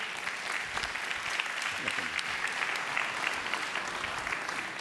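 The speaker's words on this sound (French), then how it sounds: "Sous vos applaudissements nourris." Sustained applause from an audience at an innovation awards ceremony, greeting a candidate. Dense, steady clapping fills the room at an even level for the whole stretch, with no voices over it.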